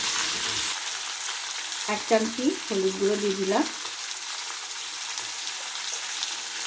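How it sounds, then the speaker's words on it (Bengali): Mixed vegetables with beans and spinach for a Bengali chorchori sizzle steadily in a pan as turmeric goes in, a soft frying hiss running throughout while someone speaks briefly in the middle. "আমার সবজিগুলো কিন্তু ভাজা ভালোভাবে হয়ে যাচ্ছে।"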